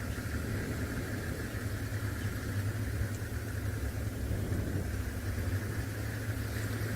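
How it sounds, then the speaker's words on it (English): A safari vehicle's engine idles steadily through the whole stretch at an even, low rumble in open bush at sunset, with no talk over it. "I think the car spooked them."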